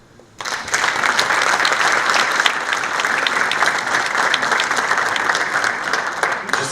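A conference audience at a digital customer-experience forum claps in a dense, loud round of applause that starts abruptly and holds steady for several seconds, with no speech over it.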